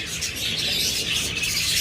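Pet birds such as lovebirds, cockatiels and budgerigars at a bird seller's, a busy flock chirping and tweeting continuously at mid distance, dense overlapping high calls with no talk.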